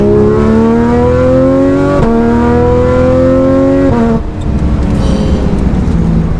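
A Porsche 911 GT3 RS engine revs hard and loud, climbing in pitch through several quick gear changes before settling into a rough, throaty idle.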